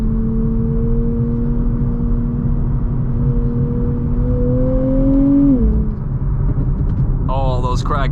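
A sports car engine holds a steady droning tone at constant revs from inside the cabin, then drops off as the throttle is released, with a few faint crackles at the end and loud road noise throughout.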